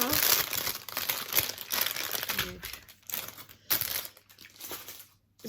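Gift package being opened, with loud, close crinkling and crushing of wrapping in several bursts, broken by brief pauses and a short quiet stretch near the end, while a person talks in French at times.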